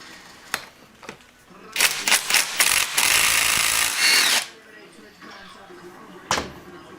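A 17 mm flywheel nut on a Honda Grom engine is removed with a power tool, short rattling bursts then a sustained buzzing run of about a second and a half, close, with scattered clicks and knocks before and after.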